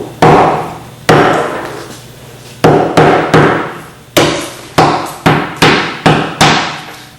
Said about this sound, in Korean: 드라이 아이스를 망치로 깨서